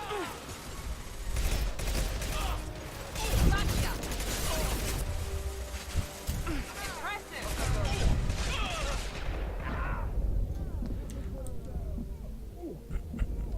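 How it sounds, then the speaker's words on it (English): Machine pistol fire in Mass Effect 2 combat, rapid bursts of gunshots mixed with impacts and battle noise for about nine seconds, then quieter scattered effects, with a voice talking intermittently over it. "Switch over to the machine pistol."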